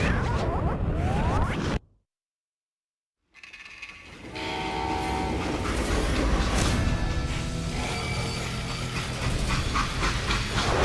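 Train from the Western video game Call of Juarez Gunslinger, heard as a loud, continuous rumble of freight cars with metallic clanks and a horn-like tone, broken by a brief gap of silence before the rolling noise resumes steadily.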